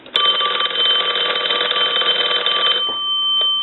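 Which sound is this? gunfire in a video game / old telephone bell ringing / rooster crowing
old telephone bell ringing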